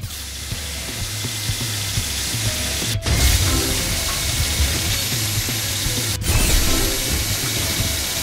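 A cartoonish drill whirs and rattles in a PAW Patrol movie video game, a steady mechanical grinding broken by two sharp clicks, with background game music underneath.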